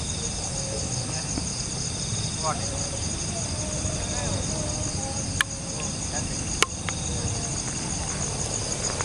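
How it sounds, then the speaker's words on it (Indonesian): Crickets chirp steadily at night during a bird hunt for zebra doves, a dense high-pitched insect trill that persists throughout with faint low background hum and a couple of sharp clicks. "Ini biasa nih jangkrik master."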